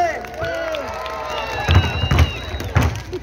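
An audience claps and cheers for the men in bursts of applause and shouts. The noise rises in the second half, and a voice talks over it at the start.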